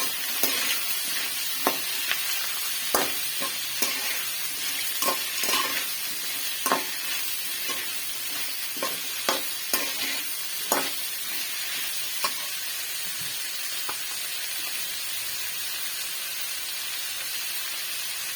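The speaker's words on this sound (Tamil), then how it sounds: "சுரக்காய் கட் பண்ணி வச்சுருக்கேன் அதையும் கூட சேர்த்து எல்லாத்தையும் கொஞ்சம் நல்லா வதக்கிக்கலாம்" Cut bottle gourd sautéing in a pan for chutney gives a steady sizzle with frequent scraping stirs and clicks of the spatula throughout, close and moderately loud, with no talking.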